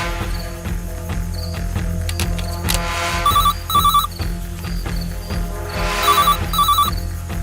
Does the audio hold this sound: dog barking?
no